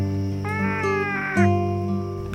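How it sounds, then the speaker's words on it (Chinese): A cat meows loudly in a radio drama, a drawn-out, pitch-bending call followed by a second shorter meow, set over a steady musical background with no talking. "边仔的猫咪听到阿珍大声咧叫"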